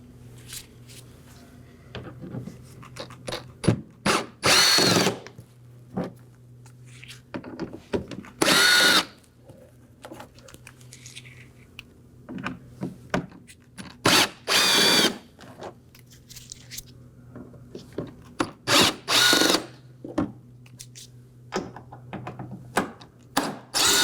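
A power drill whirs in repeated short bursts as it backs out the five T15 Torx screws on the inner wheel-well side of a Chevrolet Equinox, with clicks and handling noises between runs and no talking.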